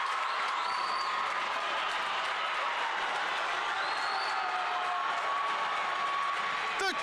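A crowd at a varsity high school hockey game roars and cheers after a goal, a sustained wash of applause and whoops filling the rink, with a sharp whistle-like tone near the end.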